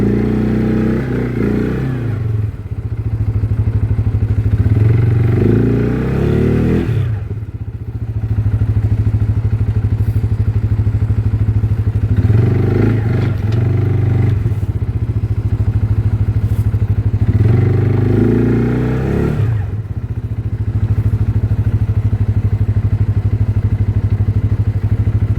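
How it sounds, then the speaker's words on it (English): Tractor engine running hard and revving in bursts while pulling a pipe during wet well installation, loud and close with clattering thumps and dips between pushes. "Trying to pull a tractor and a pipe."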